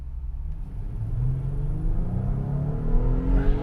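A 3.6L Pentastar Jeep Gladiator fitted with a Pedal Commander accelerates in sport plus mode, its engine note climbing steadily in pitch and growing louder as it pulls, with a low road rumble underneath and no talking.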